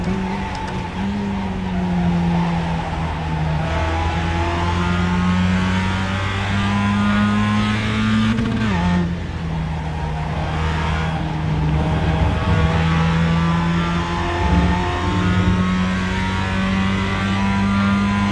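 A race car in the iRacing simulator holds a loud, high engine whine that rises and drops as gears shift up and down, with brief tire squeals and no talk, steady throughout.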